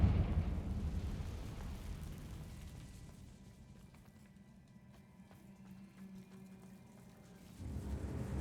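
A Confringo fire spell from Hogwarts Legacy bursts with a heavy, rumbling explosion that starts loud, fades into a low lingering roar and swells again near the end, with no voices.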